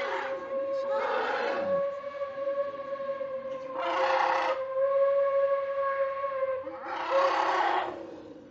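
A steam train whistle at Blijdorp zoo in Rotterdam sounds in a long sustained tone, swelling in three louder pulses over several seconds, moderately close and clear.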